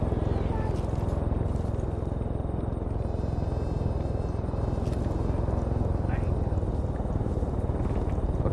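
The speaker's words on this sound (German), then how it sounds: "Jetzt erzähl mir nicht, dass es da irgendwie ein Heli oder so." Helicopter in the video game Far Cry 5, a constant loud rotor drone filling the scene while a player talks over it.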